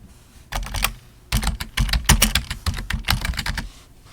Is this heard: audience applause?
no